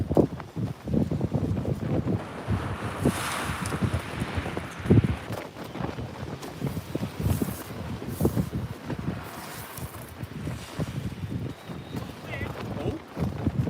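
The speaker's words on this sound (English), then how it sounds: "Our wind's nasty." Strong coastal wind on the West Sussex shore during ray fishing buffets the microphone with constant low roaring gusts, and voices are heard through the noise.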